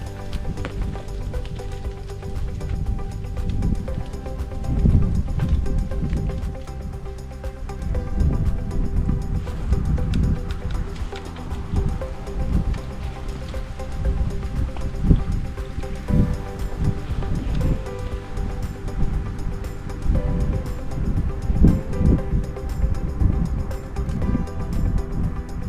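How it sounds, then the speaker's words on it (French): Winter wind rising over open water at a bread-bait fishing spot, a steady broadband rush with low gusty rumble and wave-like swells throughout, loud and continuous with no talk. "le vent commence à se lever"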